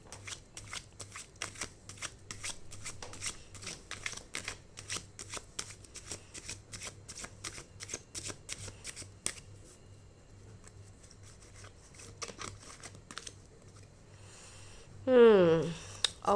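Tarot cards are shuffled in quick, steady riffling bursts close up for several seconds, then slow to scattered handling sounds, with a brief voice near the end.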